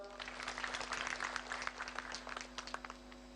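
Audience clapping in a hall, a sustained dense patter of many hands held steady at moderate volume for a few seconds under a constant low electrical hum.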